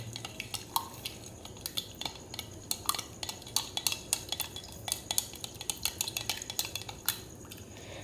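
A container of sodium hydroxide solution, still holding some undissolved solid, being stirred, with quick irregular clinks and scrapes of a utensil against the vessel, fairly quiet and close, no voices.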